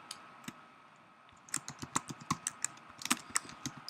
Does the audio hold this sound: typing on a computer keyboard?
yes